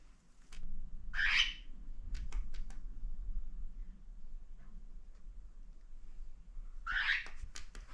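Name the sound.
cockatiels squawking near cardboard nest box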